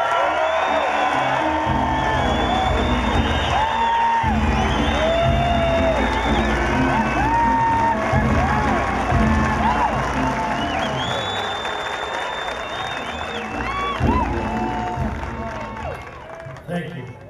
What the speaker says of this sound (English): will you please give a strong round of applause to the 2009 winner of the Barry M. Goldwater Legislator of the Year